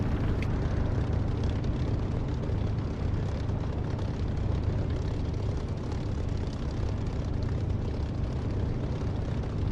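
Aircraft engine throttling up for takeoff in the DCS flight simulator: a loud, dense, steady roar that fills the whole stretch without pause, and no voices are heard.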